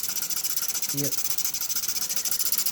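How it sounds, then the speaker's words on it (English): Steam hisses steadily from the side of the cylinder of a Mamod Brunel MK3 steam engine on its first steaming, a continuous broad hiss with a faint pulsing rhythm and a brief spoken word partway through. "So I'm not too keen on all the steam just coming out the side of the cylinder there."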